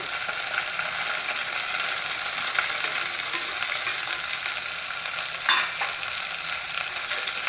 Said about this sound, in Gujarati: હવે એમાં આપણે સુધારેલું ટમેટું અને ભીંડો એડ કરી દઈશું।